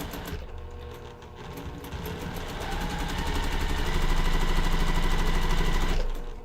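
A sewing machine stitches slowly over pins with a rapid mechanical chatter that builds in loudness and then stops abruptly near the end, heard alone without talk.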